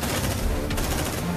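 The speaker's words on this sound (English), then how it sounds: "That's a PARS 150 phase plasma cannon salvaged from wrecked APC." Heavy automatic fire from a salvaged PARS 150 phase plasma cannon in the video game Aliens: Dark Descent, a dense, continuous roaring burst with rapid repeated reports, loud and close throughout.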